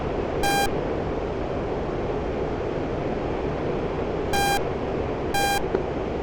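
Warning beeps in the DCS flight simulator cockpit: three short, bright electronic tones, one early and two close together later, over a loud steady engine and wind roar.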